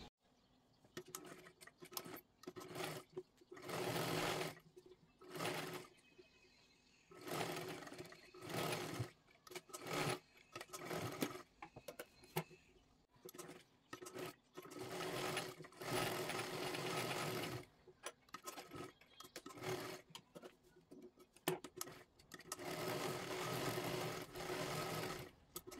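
A sewing machine stitches a blouse in short repeated bursts of whirring, stopping and starting many times with brief pauses between runs, close and moderately loud, with no talking.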